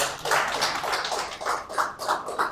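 Audience clapping at a hydrogen energy conference, uneven bursts of claps from a modest group, moderately close and short, with no talk.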